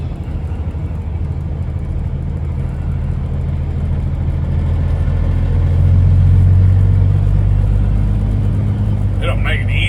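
A truck engine rumbles low and steady as the driver swings out and back to fit into a full parking lot, swelling slightly partway through before settling.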